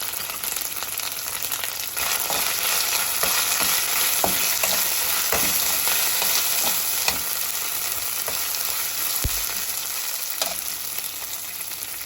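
Ginger garlic paste and coriander powder frying in a pan for tamarind rice pulihora, a dense steady sizzle with occasional scrape and stir clicks from a spoon.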